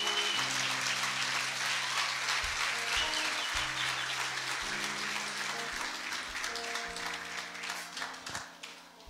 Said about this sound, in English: Let's just clap hands for Jesus Christ.